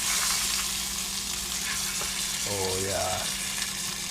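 Kokanee fish fillet with Cajun seasoning sizzles steadily in a frying pan, a constant close crackling hiss throughout, with a brief spoken exclamation over it.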